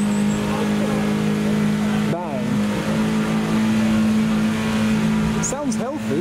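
A Ford Escort engine idles loudly and steady, then revs up and down in a few quick bursts, close by, with a person's voice briefly underneath.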